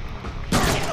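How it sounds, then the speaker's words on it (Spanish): Machine gun fire in the Deadpool video game, a sudden loud burst of rapid gunfire cutting in halfway through after a rumbling background, close and dense. "¡Ahora tengo una ametralladora!"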